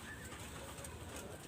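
Domestic pigeons of a top-quality pure breed coo softly at a pigeon seller's pair for sale, a low murmuring rumble that carries steadily through the clip, faint and without talk.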